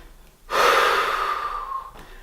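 A single deep, breathy exhalation during an abdominal workout swells up suddenly and holds steady for about a second and a half before tapering off, close and fairly loud with no talking.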